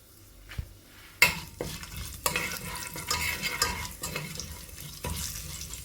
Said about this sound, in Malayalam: ഇനി ഇതൊന്ന് മൂപ്പിച്ചെടുക്കാം